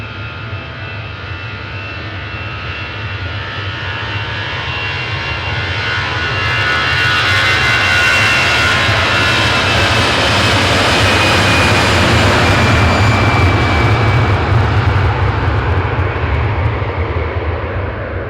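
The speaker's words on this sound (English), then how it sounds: "this one's going to Alicante. It's an Airbus A320-200 EasyJet" An EasyJet Airbus A320-200 jet airliner roars past, its engines building from a distant rumble to a loud sustained whine and rush that lingers without fading.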